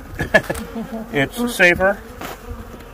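Honey bees from a hive being removed in late winter in Tombstone hum steadily in the background while someone talks briefly over them.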